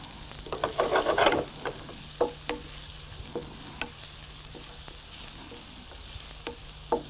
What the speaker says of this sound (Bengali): আমরা এখন 2 টেবিল চামচ পরিমাণ চপড অনিয়ন দিয়ে দিলাম।